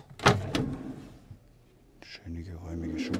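Soft-close drawer in a La Strada Nova M caravan shutting with a quiet damped slide and gentle thud, heard near and brief amid speech and a few other light handling knocks.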